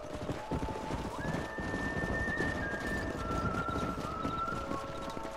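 Horses gallop with steady hoofbeat clip-clop in the video game Red Dead Redemption, a dense continuous rhythm under a sustained musical tone, with a whinny-like call and no talking.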